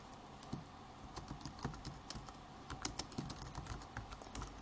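Quiet computer keyboard typing, irregular clicks of individual keystrokes close to the microphone, with no voices.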